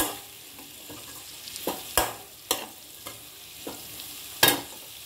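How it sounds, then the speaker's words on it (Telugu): Mixed vegetables frying with salt in a pan over high heat, a steady soft sizzle broken by a handful of sharp scraping stirs and clatters spaced a second or so apart, close and fairly quiet with no talking. "ఇప్పుడు మనం వెజిటబుల్స్ సరిపడా సాల్ట్ వేసుకుని వేయించుకుందాం."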